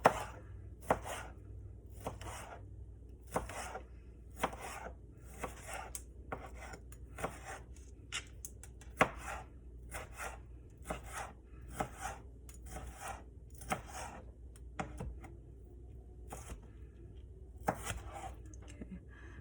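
Knife chopping ingredients for shrimp ceviche on a cutting board, a series of crisp, evenly spaced cuts, close and fairly quiet, with no talking.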